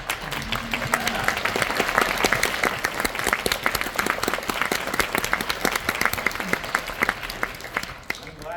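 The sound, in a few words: audience applause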